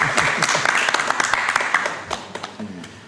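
Studio audience applause during a live show: a steady wash of many hands clapping, loud and close, thinning slightly toward the end while voices talk underneath.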